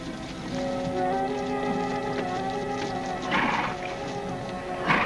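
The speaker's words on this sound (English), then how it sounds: "Annie, it's King's Ranch horse." A few-days-old King's Ranch horse neighing with whinnies, accompanied by clip-clopping hooves, moderately close amid steady background hiss.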